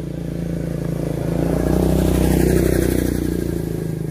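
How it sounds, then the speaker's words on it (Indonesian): A brush cutter's small two-stroke engine runs steadily outdoors at close range, droning loud and even throughout with a buzzing harmonic tone and no clear revving. "mesin babat itu"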